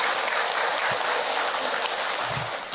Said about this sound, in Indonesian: tepuk tangan buat orang Cikarang